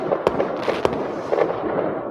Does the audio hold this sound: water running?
no